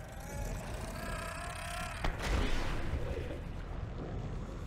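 An exploder plant bursting underwater in Subnautica: Below Zero, a sudden muffled blast that swells into a rumbling wash before settling back into the ambient underwater hum.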